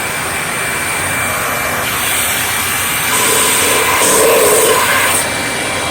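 A vacuum motor runs steadily during a suction test, a loud continuous broadband whoosh that swells slightly near the end, with no talking.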